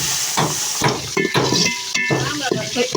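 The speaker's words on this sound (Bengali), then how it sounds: "গরুর মাংসের লেগে এই যে পেঁয়াজ ভাজতেছে" Onions frying for beef roast in a pot on a clay stove hiss in short bursts as they are stirred, with scraping and light clatter of utensils close by.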